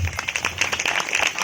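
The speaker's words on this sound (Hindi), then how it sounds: "और ताली बजावो कर बर।" An audience at a family church celebration claps together in brief, dense applause, with a few voices mixed in.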